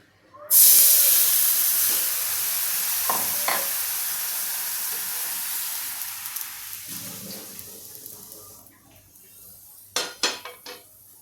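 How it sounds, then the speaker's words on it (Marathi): Water poured onto a hot griddle after cooking thalipeeth, a sudden loud hiss of steam that fades slowly over several seconds, followed by a few faint metallic scrapes and taps. "तव्यावर मी आता पाणी टाकते"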